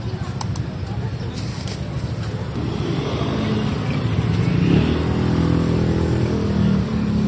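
Vehicle engines idling and revving at a church car blessing in Manaoag, Pangasinan, a loud continuous rumble with a rising note midway, under someone speaking over a public address.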